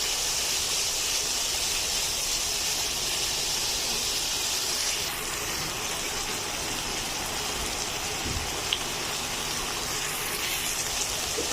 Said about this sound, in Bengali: মাংসটা এখন কিছুক্ষণ ভেজে নিচ্ছি